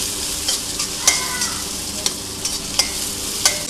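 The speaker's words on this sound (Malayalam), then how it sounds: "2 സവാള ഇതേപോലെ ക്യൂബായിട്ട് കട്ട് ചെയ്തത്, അതും പിന്നെ 1 പച്ചമുളകും ഇതിലേക്ക് ചേർത്ത് ഇളക്കി കൊടുക്കാം" Onion cubes and green chilli stir-fried in a hot pan for chilli sausage, a steady sizzle with sharp scrapes and clinks of the spatula every half second or so, close and alone.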